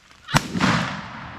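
A single sharp shotgun blast fired at a wild turkey during a youth turkey hunt in New York, one loud close crack with a short rolling decay outdoors.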